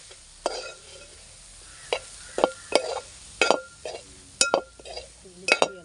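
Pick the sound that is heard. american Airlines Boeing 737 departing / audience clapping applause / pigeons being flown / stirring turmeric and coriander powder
stirring turmeric and coriander powder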